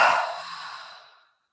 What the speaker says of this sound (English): I'll actually invite people to do a really, like, the intentional audible exhale.